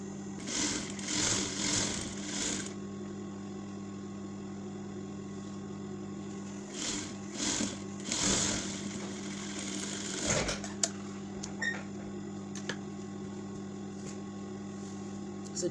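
Sewing machine stitching pieces of a pinafore dress, a steady mechanical whir that runs in bursts for the first few seconds and again briefly later, with pauses and faint handling between runs.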